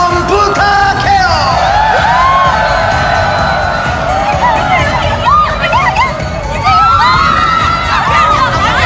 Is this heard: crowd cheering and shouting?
yes